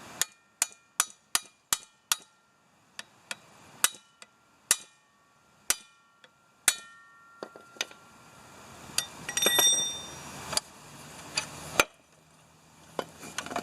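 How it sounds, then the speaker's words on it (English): Sharp metallic strikes from a 2-pound mini sledgehammer ring out close by during driveshaft support replacement on a 1985 Mercedes 300D, a fast regular series, then slower scattered blows with clinking and shuffling. "I've got my little 2-pound mini sledge."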